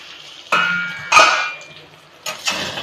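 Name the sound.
lid being put on a cooking pot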